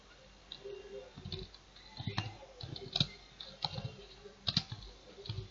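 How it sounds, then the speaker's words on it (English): Irregular keyboard typing on a computer, with scattered clicks and taps at close range over faint room noise, no voices. "Let me type in here"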